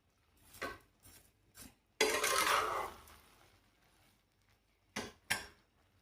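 Sugar being stirred into basanti pulao in a cooking pot, with a few soft scraping strokes, one longer louder stir in the middle, and a couple of brief knocks at the end.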